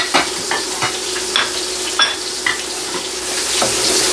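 Steady sizzling as flour is stirred into a hot pot of beef osso buco, a spoon scraping and stirring at intervals, close and fairly loud, no voices.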